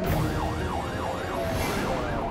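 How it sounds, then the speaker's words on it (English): A loud police siren wails in a steady rising-and-falling pattern, close by, with no talking. "But instead of stopping for the sirens, Chris takes off."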